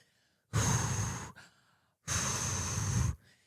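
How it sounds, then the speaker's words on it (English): A person takes two heavy, drawn-out breaths up close, each a loud, rough exhale or sigh lasting about a second, with quiet pauses between them. "You can hear me breathing like this."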